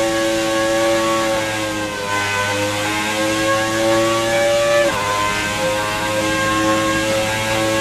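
A 1992 Williams Formula 1 car with a Renault engine at top speed in the F1 2018 game, a sustained high-pitched engine howl that holds steady, dips with a brief gear shift and resumes, loud with no talk.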